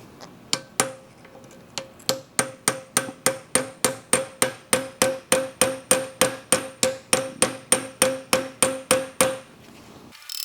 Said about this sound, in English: Now the spindle should come off here.